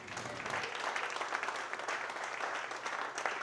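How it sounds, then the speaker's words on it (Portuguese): A church congregation at a family worship service gives a round of applause, with many hands clapping steadily and evenly from close by, heard on its own. "Dê uma salva de palmas ao Senhor."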